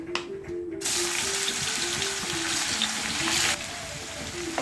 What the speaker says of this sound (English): Once the oil heats well in the pan, switch it off and drop all the paneer into the oil.